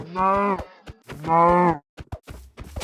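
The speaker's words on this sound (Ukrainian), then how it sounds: "Корова!" Two long, loud cow moos in a row in Minecraft, each a drawn-out lowing call, followed by scattered clicks and short game sounds.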